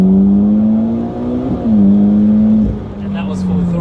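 A tuned 400 AWHP Mitsubishi Evo X accelerating hard at full throttle, its engine drone rising in pitch, dipping briefly at gear shifts, then climbing again, loud and heard from inside the car.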